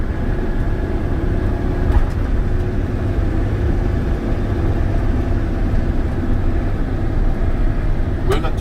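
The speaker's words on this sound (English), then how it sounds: "So I'm going to start downshifting from 6 to 5, release the clutch" Steady low drone of a truck engine during a CDL driving test as the driver downshifts from sixth to fifth gear, with a continuous rumble and faint road noise throughout and a couple of brief clicks.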